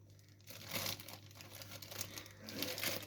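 An empty plastic MediaMarkt shopping bag crinkles while being pulled from a mystery box, with close, irregular rustling and crackling in bursts across the moment, against a steady low hum.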